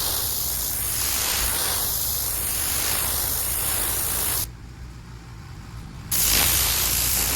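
An X-Jet pressure washer sprays a surface with a loud, constant hissing jet. It cuts out for about a second and a half, then resumes at full force.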